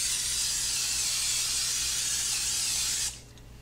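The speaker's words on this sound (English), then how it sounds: "What I'm going to do is spray it with some cooking spray." A steady, loud hiss of an aerosol cooking spray coating a baking dish, held for about three seconds, then cut off abruptly, leaving quiet room tone.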